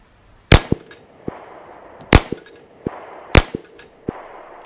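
Three loud nearby pistol shots, each followed by sharp metallic clangs as bullets strike a steel flipper target, repeating in a steady rhythm outdoors.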